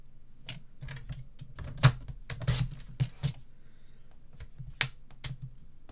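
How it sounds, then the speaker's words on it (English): A paper trimmer slices paper from corner to corner while a three-tier gift box is crafted, giving a close series of sharp clicks and short scraping strokes with no talking. "So let's just grab a trimmer again. And like I say, just cut from corner to corner."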